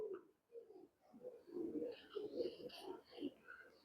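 A male Road Master tournament pigeon coos softly and close by in a series of low, rolling calls, with faint voices in the background.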